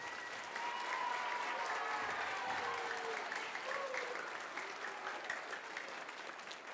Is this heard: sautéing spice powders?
no